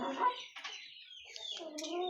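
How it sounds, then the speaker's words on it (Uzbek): Large ten- to eleven-month-old black hens cluck and cackle close by in a short burst of overlapping calls, with no voices heard. "10 oylik, 11 oylik katta tovuqlar."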